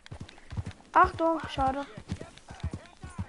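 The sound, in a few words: horse hoofbeats while riding the horse Runner in Red Dead Redemption 2 (video game)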